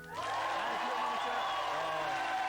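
A studio audience at a comedy show breaks into applause that swells quickly and holds as a steady roar, with a voice carrying through it.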